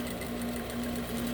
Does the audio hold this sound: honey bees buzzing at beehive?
no